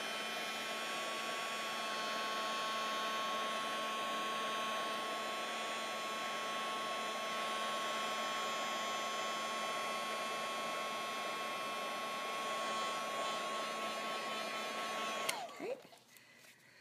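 Heat tool blowing steadily to dry melted ink on heavy cardstock, a continuous close-up whirring hiss that holds for many seconds before abruptly switching off with a click.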